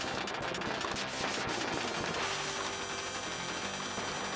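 Rapid automatic fire from the arcade game Jackal, a dense continuous rattle of shots running throughout with steady loudness, mixed with game sound effects and no talking.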